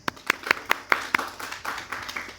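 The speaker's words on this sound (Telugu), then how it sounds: "ఈ చప్పట్లు కొట్టేది కూడా మీకు మధ్య మధ్యలో కొంచెం హుషారుగా ఉండడం కోసమే" A group of Veda students claps in unison at a pranayama camp, about six crisp, evenly spaced claps that then dissolve into softer, scattered clapping fading out.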